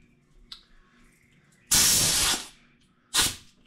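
Two loud bursts of compressed-air spray blasting clutch dust out of a Can-Am belt drive housing, the first longer and the second short, close by over a quiet background with a faint tap before.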